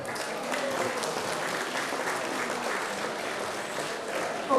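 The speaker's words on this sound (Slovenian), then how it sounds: "Predlagam pa, da si najprej vsi skupaj zaploskate, da ste danes na konjiškem martinovanju." A festival crowd at the Martinovanje wine celebration in Slovenske Konjice claps together in sustained, even applause lasting several seconds, dense and fairly close, with faint voices mixed in.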